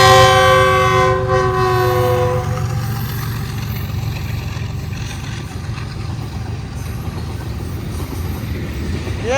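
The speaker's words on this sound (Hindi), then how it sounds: "वो रेलगाड़ी भी आ चुकी" A train passes nearby, sounding a loud multi-tone horn at the start that gives way to the steady rumble and clatter of railcars rolling past.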